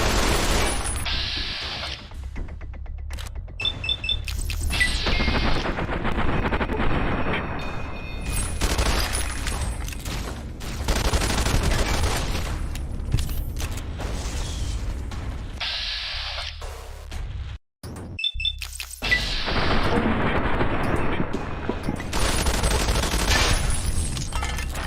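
Enemies open fire on the player in Fallout New Vegas, with loud bursts of gunfire and repeated volleys separated by brief lulls and one sharp cutoff, all close and harsh.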